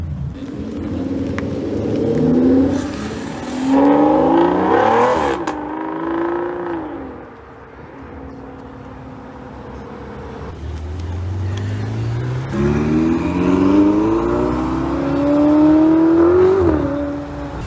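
An Aston Martin Vanquish engine revs in an underground garage, a deep, loud exhaust note rising and falling in repeated throttle blips, echoing off the concrete, with a calmer idle in the middle.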